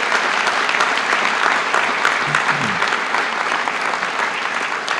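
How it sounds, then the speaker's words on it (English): Loud, dense applause from an audience at the Texas A&M University San Antonio inauguration, a continuous wash of many clapping hands sustained evenly for several seconds. "thank with our applause Frank Madla for the job that he did"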